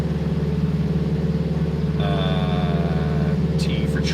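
A car engine idles steadily during tuning, a loud, even, close rumble with a faint whine joining partway through.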